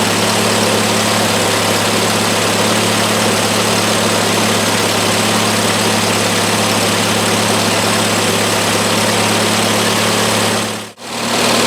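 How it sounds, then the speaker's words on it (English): A Triumph Spitfire engine idles steadily while warming up, with a loud, even low hum and mechanical buzz that holds throughout, then a brief dropout near the very end. "Our car's definitely warming up."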